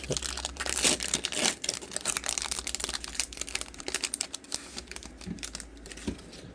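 A Pokémon-style trading card booster pack being torn open and handled up close, dense crinkling foil and rapid papery rustles and ticks throughout, with no speech.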